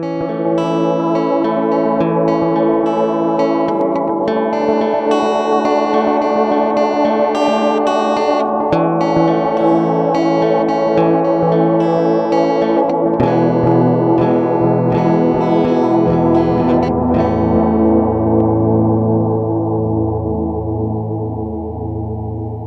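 Dense, continuous wash of heavily modulated, distorted guitar-like tones from an effects pedal's modulation and feedback, with swirling, wavering feedback that sustains and drifts in pitch, loud and unbroken throughout.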